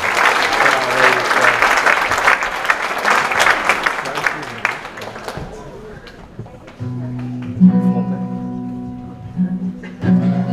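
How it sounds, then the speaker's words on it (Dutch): School cultural evening audience applauding, loud dense clapping for several seconds that thins out as a piano-like music intro begins to play. "Geef een groot applaus"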